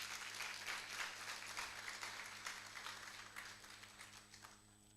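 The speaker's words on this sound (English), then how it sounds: "Let's clap for them, please." Steady, dense applause from a university audience at an innovation week event fills the whole stretch at an even level under a faint constant hum.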